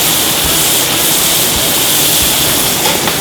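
Fresh local shrimp, salted and peppered, sear in a very hot pan with a steady, loud, dense hiss and crackle that fills the whole stretch without pause.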